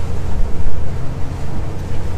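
Strong wind of about 17 to 20 knots blows across a catamaran at anchor in Raja Ampat, giving a steady, rough, gusting rush of noise with no voices.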